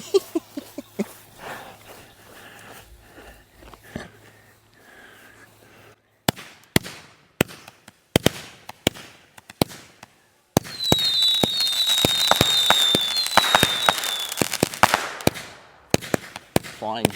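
Backyard aerial fireworks from a consumer assortment bursting at night: a quick series of sharp cracks and pops, then a dense, sustained crackling barrage, loud and close, with brief voices at the start.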